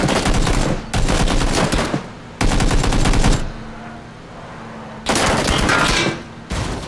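Automatic gunfire in the battle royale video game PUBG, loud rapid bursts of shots in several separate strings with short quiet gaps between them.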